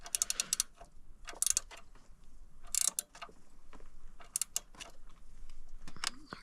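Bolts are tightened on the alternator of a Ford Fiesta with a ratchet, giving a few short bursts of clicking and metallic mechanism sounds between quieter pauses, with no talk.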